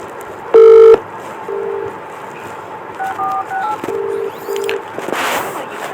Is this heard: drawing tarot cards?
no